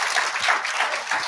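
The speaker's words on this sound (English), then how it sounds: "join me in giving them a round of applause" An audience applauds at a panel event on oral health strategies, a steady wash of many hands clapping throughout.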